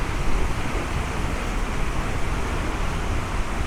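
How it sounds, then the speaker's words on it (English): Steady roar of an Icelandic waterfall in winter, with wind buffeting the microphone, loud and continuous throughout with no voices. "another impressive waterfall here"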